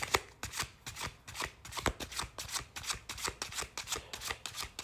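Tarot cards being shuffled by hand, a quick rhythmic series of soft riffling flicks close to the listener, with no talking.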